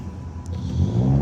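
A Ram 1500 Classic's 3.6-liter Pentastar V6 revs up, a mid-pitched engine whir swelling steadily louder over about a second.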